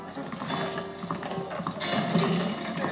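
Horse hooves clip-clop at a steady walking pace in the video game Red Dead Redemption, with faint mechanical clicks and ambient game sounds mixed underneath.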